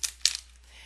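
Tarot cards are shuffled close by in two quick, crisp papery bursts, the second slightly longer, followed by quiet room tone.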